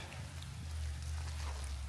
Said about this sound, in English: Oh, the rain's really picking up now.